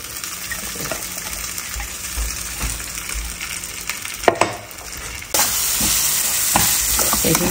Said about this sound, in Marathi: स्लो गॅसवर 5-7 मिनटं ही डाळ परतवली आणि अशी मोकळी होते